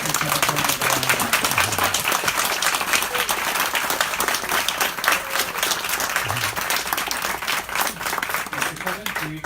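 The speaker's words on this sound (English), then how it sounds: "let's give a big round of applause for Kevin and Delilah." Steady applause from an audience at a bookstore author event, dense clapping that stays strong and fairly close throughout, with some crowd voices mixed in.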